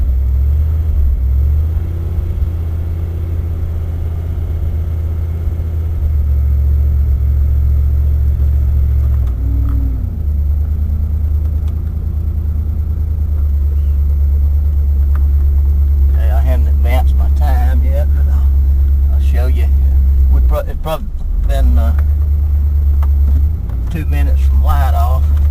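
A wood-gas powered vehicle running on 100% wood gas gives a steady low engine rumble and drone while driving, with a voice talking over it in the second half.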